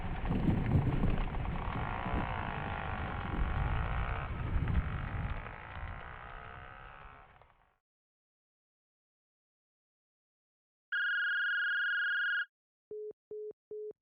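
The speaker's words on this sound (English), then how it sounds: "where'd this rain come from?" Heavy rain pours steadily for several seconds as part of a War of the Worlds audio drama, dense and close, then stops abruptly. Silence follows, then an electronic phone tone and a few short beeps.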